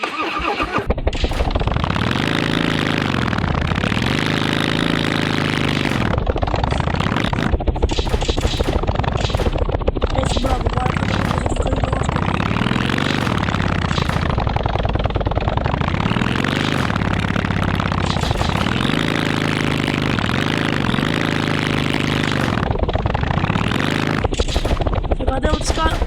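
A motorbike engine in the game Roblox drones loudly throughout, its pitch rising and falling in repeated revving swells, with bursts of game effects mixed in.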